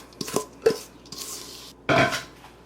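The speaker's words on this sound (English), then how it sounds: "I'll scrape the sides of my bowl here." A spatula scrapes around the sides of a mixing bowl of granola mixture in several short, close scuffs and clinks, ending with a longer sweeping scrape.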